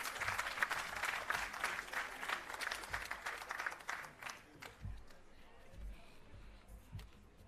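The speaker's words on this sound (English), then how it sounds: "A round of applause." Audience at a graduation ceremony applauding, a dense burst of clapping that thins and fades out after about four seconds into scattered claps and low room noise.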